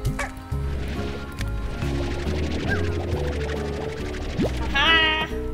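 Chickens cluck and squawk in the farming game Slime Rancher, several birds close and loud over background music, with one sharper flurry of calls near the end.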